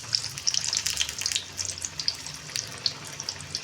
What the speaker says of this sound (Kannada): ಇವಾಗ ನಾನು ಎಣ್ಣೆಲಿ ಬಿಡ್ತೀನಿ